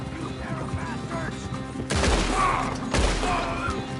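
Red Dead Redemption 2 gameplay with a running horse chase: a steady background of hoof and action noise, then two loud sharp gunfire bursts near the middle, each followed by a booming low rumble.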